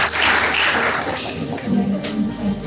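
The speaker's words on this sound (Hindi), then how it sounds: "तालियां।" Schoolchildren clap together in a short, loud burst of applause that fills the room, with a few voices mixed in.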